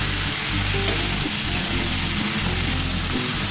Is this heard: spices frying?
yes